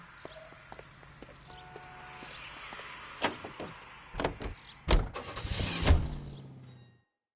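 A car in L.A. Noire heard as mechanical clunks, door-like thuds and rattles that build into louder engine and impact noises toward the end before cutting off, with faint tonal game sounds early on.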